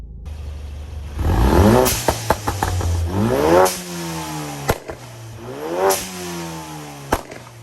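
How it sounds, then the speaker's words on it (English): A Ford Focus RS MK3 on a burble tune is revved hard in a few loud, rising bursts close by, each dropping back to a crackling, popping idle between blips. "give it some revs, because I think it'll shoot flames with this burble tune"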